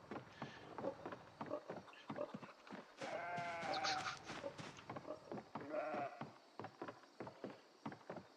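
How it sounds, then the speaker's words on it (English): Sheep bleating in the video game Project Zomboid, two drawn-out wavering bleats standing out over a busy bed of repeated footsteps or clicks, fairly close. "They're very supportive sheep."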